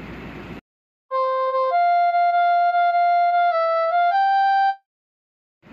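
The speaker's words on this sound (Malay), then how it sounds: "Recorder ialah alat muzik yang menghasilkan bunyi berpitch, iaitu bunyi yang tinggi dan tetap." Recorder playing a short, steady melody of clear high sustained notes, alone and fairly close, after a brief burst of noise and before a pause.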